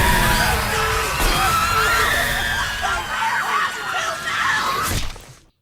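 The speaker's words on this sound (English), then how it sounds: "And it's just the most horrifying screaming." A chorus of horrifying, distorted screaming from the Bad Place in the TV comedy The Good Place: loud, dense and continuous wailing and shrieking that runs unbroken before cutting off abruptly at the end.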